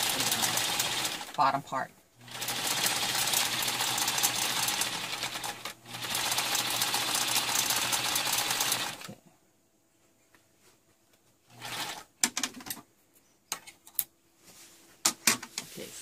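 A sewing machine runs in long steady bursts while stitching a happi coat garment. It stops briefly between runs, then falls quiet apart from a few clicks and a short remark.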